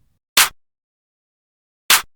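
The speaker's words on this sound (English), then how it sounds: "Then I moved on to the clap pattern." Two sharp electronic claps from a simple programmed FL Studio pattern, spaced about one and a half seconds apart, crisp and alone against silence.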